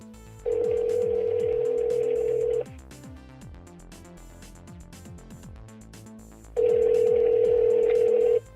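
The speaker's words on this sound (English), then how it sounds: "The system will dial the number automatically." A Lexus car Bluetooth phone system automatically dials a number: a rapid series of short dialing tones runs through the clip, broken by two longer, steady ringback tones, clear and close with no talking.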